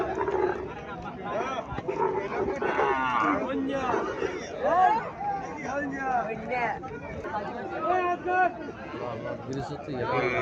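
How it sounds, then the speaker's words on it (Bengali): A Haryana breed dairy cow lows at a busy cattle market in Cumilla, with its calls rising among steady crowd chatter and nearby voices throughout. "এখানে একটা গাভী দেখা যাচ্ছে"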